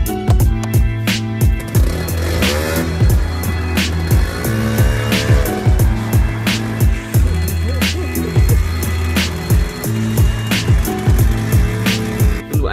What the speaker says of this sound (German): mein erstes Mal auf einem Schneemobil